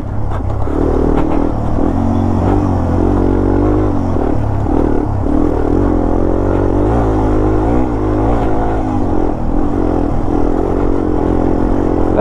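A Yamaha TW200 motorcycle ridden over rocky terrain, its engine droning steadily and loudly up close, with the note rising and falling as the throttle varies and rattles and scrapes from the rocks underneath.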